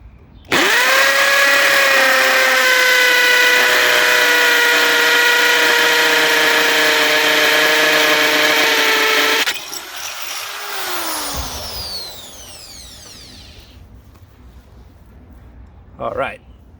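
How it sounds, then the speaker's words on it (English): A Chicago Electric 1/2 inch hammer drill from Harbor Freight bores through material with a loud, steady whine for about nine seconds, then spins down and stops, followed by quieter handling noise. "we're drilling through more substance here than with a 1/4 inch."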